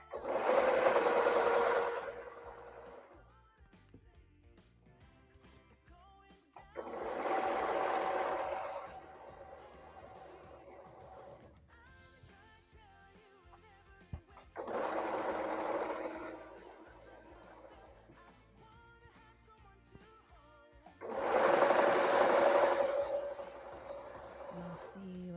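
A sewing machine stitches a Christmas stocking in four loud, close bursts of rapid whirring, each lasting a few seconds, with a person talking in the quieter gaps between runs.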